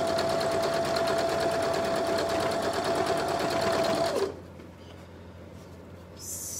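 Sewing machine stitching a pinwheel quilt block, a steady rapid whirring hum with a high motor whine for about four seconds, then stopping abruptly, leaving quiet room sound and a brief soft rustle.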